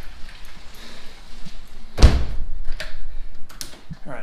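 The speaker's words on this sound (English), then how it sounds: "Close this door." A door is pulled shut at home, a single loud thud near the middle against quiet background rustling, followed by a few faint knocks.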